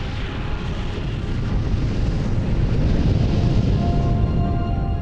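Planetary collision impact forming the Moon, a violent cataclysm between the young Earth and another planet: a sustained, loud, deep roaring rumble that swells and holds steady throughout, dense and explosive with no voices.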